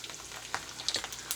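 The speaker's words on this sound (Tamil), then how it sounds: "இங்கே கடுகுலாம் வெடிக்குது." Mustard seeds and garlic fry in hot oil for tomato thokku, a close, soft sizzle dotted with small popping crackles.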